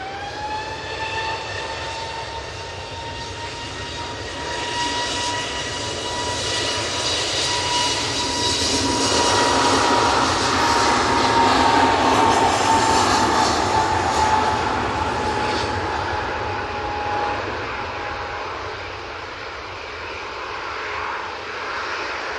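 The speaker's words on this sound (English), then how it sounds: "that 321neo is going off to Split" An Airbus A321neo departs Manchester Airport for Split, a loud jet roar with several steady whining tones that builds to a peak midway, then eases slightly as it rolls past, with no talk.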